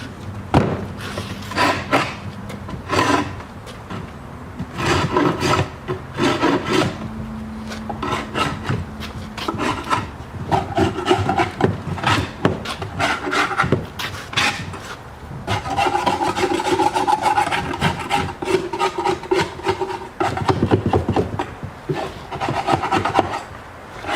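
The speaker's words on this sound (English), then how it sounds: "we'll scrape along there, and then down all down the sides, and then around on the top." Wax is scraped off wooden beehive frames in repeated rasping strokes with short pauses and occasional knocks, close and fairly loud throughout.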